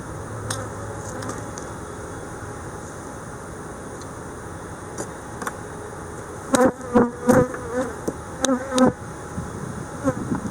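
Honeybees buzz around an opened hive during an inspection, a steady close hum with sharper, louder bursts of individual bees passing near in the latter half.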